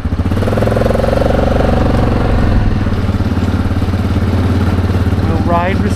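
An ATV engine runs loud and close on a first ride at a Sauble Beach camping trip, a steady rumbling putter with slight surges, with a voice briefly heard near the end.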